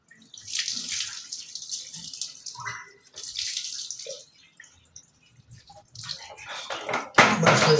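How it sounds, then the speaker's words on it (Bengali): Water is poured over a hairy pet during a warm-weather bath, splashing and dripping in short bursts with quiet pauses between, close by, ending in a louder gush of running water. "পেটে একটু জল দিয়ে দিলাম"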